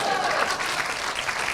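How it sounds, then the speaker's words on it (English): Audience applause following a joke during a celebratory speech, a steady wash of clapping hands that fills the short moment at even loudness from start to end. "That should get applause."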